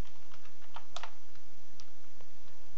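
Numbers typed on a computer keyboard in a Minecraft Redpower computer setup, giving a quick run of close, crisp key clicks with one louder tap in the middle.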